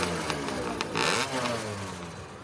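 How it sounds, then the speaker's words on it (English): A hydroplane boat with a 125cc engine powers off down a lake, its engine note loud and close at first, rising in pitch as it revs, then steadying into a strained drone as the boat pulls away. "This is a hydroplane hull with a 125cc engine."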